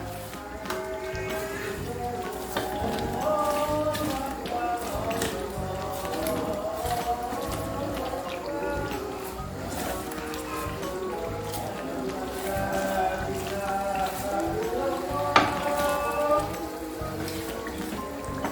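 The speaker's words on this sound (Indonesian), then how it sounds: "Terus diaduk-aduk sampai merata, sampai matang ya." Egg is stirred into a crab sauce in a frying pan, producing a continuous wet sizzling crackle with soft scraping and a sharp clack near the end, while someone talks over it.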